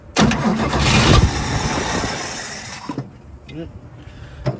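An old car engine, not run in over twenty years, cranking on a makeshift key after a spray of brake cleaner, a loud roaring burst that sputters briefly then dies, with a voice talking toward the end.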